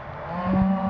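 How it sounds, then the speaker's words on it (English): A single short, low moo from a cow during a cattle roundup in Montana, fairly loud against a faint hum of background noise. "you can hear the cows right now bellowing"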